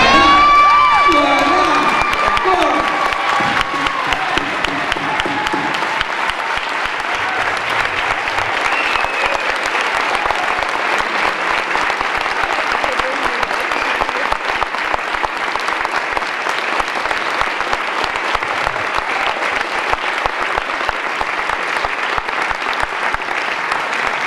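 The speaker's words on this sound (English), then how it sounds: "standing ovation." A theater audience gives a tap dance legends panel a sustained standing ovation, dense loud applause with cheering and whoops, holding steady throughout.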